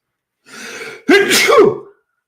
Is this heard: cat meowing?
no